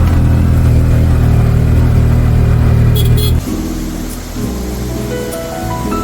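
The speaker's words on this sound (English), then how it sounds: "take a tuk-tuk back up again" A tuk-tuk auto rickshaw climbs uphill on a road in inland Sri Lanka, its small engine droning loud and close with a steady hum that drops in pitch partway through, then settles into a lower labored tone.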